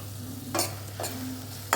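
A spatula scrapes through sautéed onions with turmeric in a pan three times in quick succession, each stroke a bright swish over a soft sizzle and a low steady hum.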